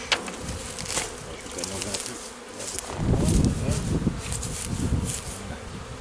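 A honeybee swarm buzzes at the hive, a dense, steady hum of many bees close by that swells louder in the second half, with faint talk underneath.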